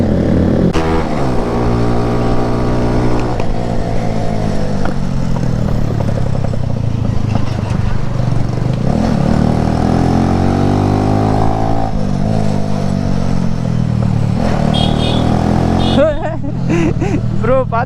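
A Bajaj R15 125cc motorcycle runs with a loud exhaust, revving up and down in repeated surges that rise and fall in pitch for most of the stretch before fading. Voices are heard over it.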